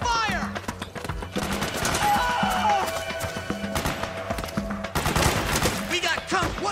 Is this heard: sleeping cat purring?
no